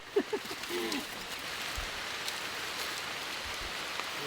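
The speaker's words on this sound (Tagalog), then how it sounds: "Medyo umuulan ng konti" Light rain falls steadily as an even, soft hiss, with a few brief faint voices near the start and occasional low thumps underneath.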